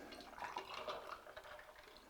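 Cranberry juice poured into a glass of vodka over ice, a soft close liquid splashing and trickling that swells then tapers over about two seconds, quiet and without talk.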